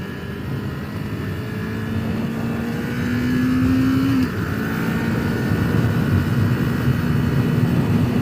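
Kawasaki Ninja 400 motorcycle riding along with a steady, continuous engine drone and wind rush, the pitch climbing slightly before a brief shift, no talking.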